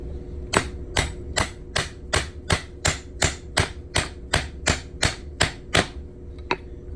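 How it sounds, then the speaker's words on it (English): A hammer strikes a 1954 silver quarter coin ring on a mandrel, sixteen sharp metallic strikes in a steady even rhythm, close by and loud, with a brief ring after each blow. "we're just going to hammer this down all the way"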